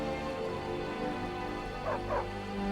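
A dog in the video game Skyrim gives short yipping, whimpering barks over a steady game soundscape, with two brief rising calls near the end.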